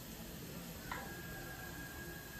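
Onion and garlic fry in a pan until golden, giving a soft, steady sizzle and hiss heard up close on its own, with one faint clink partway through.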